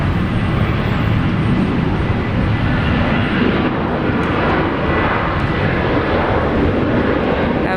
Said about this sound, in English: Virgin Australia flight 306 off to Melbourne.